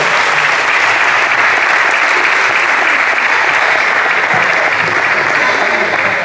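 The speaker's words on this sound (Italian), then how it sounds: "un applauso" After a slalom race in Altomonte, a crowd applauds winner Michele Pulitisi with loud, dense, steady clapping that holds unbroken for several seconds.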